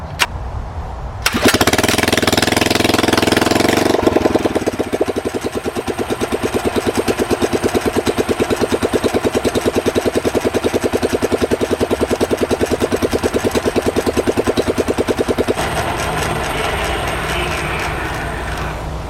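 A Schwinn OCC mini chopper's 79cc Predator engine starts with a sharp rise, runs at a steady rattling idle for a long stretch, then suddenly drops away and cuts out when the throttle is released.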